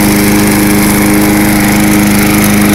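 An MTD Lawn Chief lawn mower engine running close and very loud, a steady buzzing drone with constant pitch throughout.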